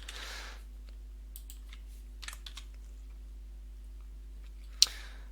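Short, faint bursts of computer-keyboard typing as a poll question is entered in Zoom, with quiet gaps between keystrokes and one sharper click near the end.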